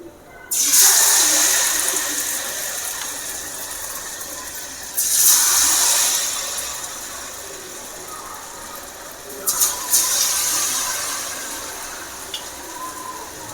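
Snake gourd rings dipped in thick batter hit hot oil over low flame, raising three loud bursts of sizzling and crackling that fade into a steady hiss between drops, with no talking.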